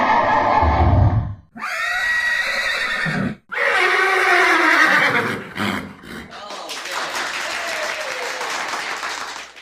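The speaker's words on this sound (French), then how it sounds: "C'est Bouboune, le cheval!" A horse whinnies loudly in a few drawn-out calls, broken by short gaps, followed by a burst of crowd noise like applause.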